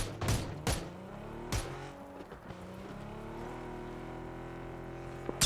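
Grenade blasts and gunfire in the shooter PUBG on the Taego map, with several sharp bursts early on over a steady droning engine-like hum, then a final loud crack at the end.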